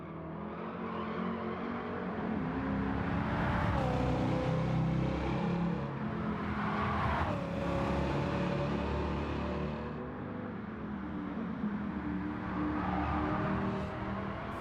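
Dodge Challenger R/T muscle car engine in Gran Turismo 7, a deep, throaty growl that revs and swells continuously, rising and falling in pitch through gear changes with no talk over it.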